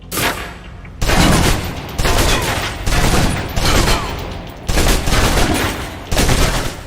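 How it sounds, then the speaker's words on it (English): Submachine gun fire in the video game Alpha Protocol, loud sustained automatic bursts emptying the magazine, five or six long volleys separated by brief pauses, with no talking. "Now, let's move on to the submachine gun. Now let's empty the clip."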